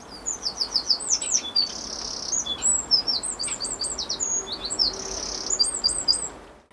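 A wren sings an extended version of its standard phrase, a rapid run of bright, high trills and chirps that carries on for several seconds, loud and close, with no talking.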